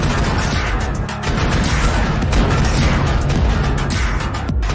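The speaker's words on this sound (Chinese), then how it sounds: "一股强大的能量波爆炸而出" Energy-wave explosion attack in the video game ARK: Survival: a loud, continuous barrage of booming blasts and crackling bursts that stays dense and forceful from start to finish, with no speech.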